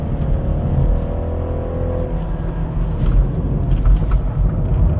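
BMW 330e hybrid sedan on Michelin PS4 tires driving hard up the Genting mountain road, its engine droning and building under throttle, heard from inside the cabin with steady road roar.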